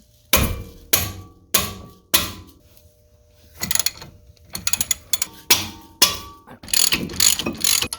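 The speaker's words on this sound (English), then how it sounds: "I'm going to use my close quarters impact wrench here" A close quarters impact wrench fires in short sharp bursts on brake caliper bracket bolts, several separate rattling hits with pauses between, then a denser run of hammering near the end, loud and close.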